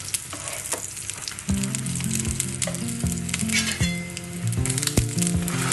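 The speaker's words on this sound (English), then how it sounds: "Now to cook this roti, I'm going to put little bit of pure ghee on the sides" Roti sizzles steadily in a small amount of pure ghee on a hot pan, a close, continuous crackle with occasional scraping and tapping knocks, no voices.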